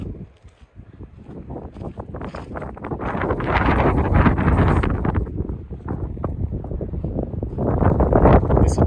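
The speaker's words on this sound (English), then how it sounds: "so far bloody windy" Strong gusty coastal wind at Speed Point, South Australia, buffets the microphone, roaring low and rising in surges, with a rustling, blustery outdoor feel throughout.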